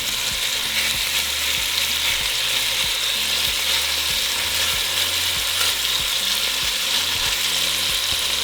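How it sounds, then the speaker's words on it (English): Beef pieces for carne con chile browning in a single layer in a hot pan, giving a steady, loud, continuous sizzle with faint clicking and scraping underneath and no talking. "And we're going to brown that side of the meat for a couple minutes."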